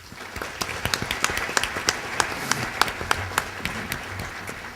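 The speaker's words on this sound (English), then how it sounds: "I would like you to join me in applauding the Wilmington Business Journal team for putting together the Power Breakfast for us" Audience at a business breakfast event applauding, a moderate, steady patter of many hands with individual sharp claps standing out near the microphone.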